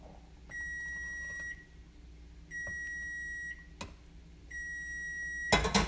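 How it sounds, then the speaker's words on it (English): A kitchen timer sounds three steady, even electronic beeps, each about a second long and spaced roughly two seconds apart, then a brief clatter follows. "Thank you, little timer."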